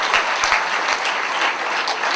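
Sustained applause from an audience welcoming a guest at a formal function, dense steady clapping throughout with no pauses.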